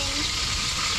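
Samaral fish sizzling in hot oil in a pan, a dense, steady crackle and spatter heard close up, with a faint bit of voice near the start.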